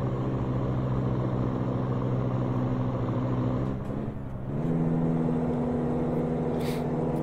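An old-school custom Peterbilt 359 big rig with loud pipes and a 10-speed drones steadily in a trucking game, a deep engine hum that dips briefly midway, then settles back into a level cruise.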